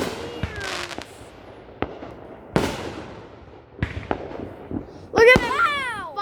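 Fireworks going off on firework day: a series of sharp bangs and cracks at irregular intervals, a few closer and louder than others, ending in a cluster of crackling bursts with whistling tails.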